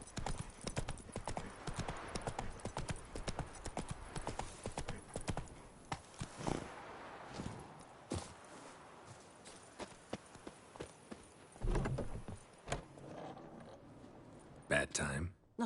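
Roach, the horse in the video game The Witcher 3, gallops in rapid, rhythmic clip-clop hoofbeats with some tack rattle, fairly quiet, with brief voices and a snort near the end.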